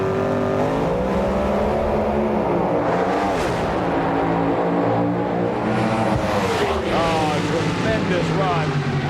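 Top Fuel dragsters at the 1995 NHRA Virginia Is For Lovers Nationals roar down the strip, engines surging and rising in pitch twice over a continuous loud, dense drone, with voices mixed in.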